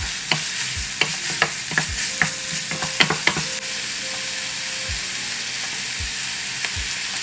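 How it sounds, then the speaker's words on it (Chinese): A spatula scrapes and knocks repeatedly around a wok while minced pork with soy sauce is stir-fried, a steady run of clacks over a constant sizzle that thins out midway, with no one talking. "1小汤匙酱油，翻炒均匀"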